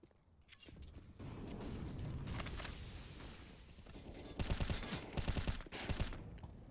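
Rifle fire from an M4 and an AWP in a competitive shooter match, dense rattling bursts and mechanical clatter over a steady rumble, with sharper volleys near the end.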